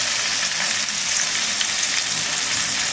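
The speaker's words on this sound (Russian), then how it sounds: "А жарим камбалу." Steady, bright sizzling of flounder frying in hot oil in a pan, a continuous crackling hiss with no voices.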